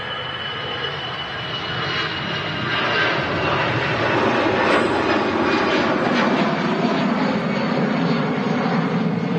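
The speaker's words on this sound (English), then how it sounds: "There goes the easyJet." An easyJet airliner departs Manchester Airport bound for Pisa, its jet roar building into a steady, loud broadband rush that holds throughout with no talk over it.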